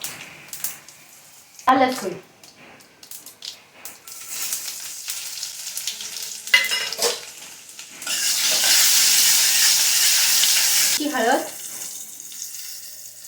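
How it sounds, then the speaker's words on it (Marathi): Cumin, asafoetida, garlic and turmeric go into hot oil for a Maharashtrian tempering. A few clinks come first, then a steady, loud sizzle swells up close and fills the back half. "फोडणीमध्ये घालते तेल छान तेल गरम झालंय आपण त्याच्यामध्ये घालूया जिरं"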